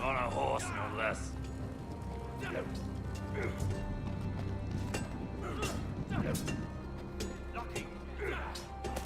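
Horse hooves gallop in a steady clip-clop rhythm in the Telltale Game of Thrones video game, riding toward the Wall, fairly loud and continuous beneath music and game sound effects.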